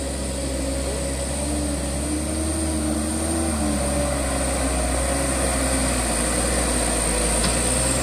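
A Hino Euro 4 truck engine runs as a loud, steady, low droning rumble that holds at a constant level for the whole stretch, with no clear rise or fall in revs.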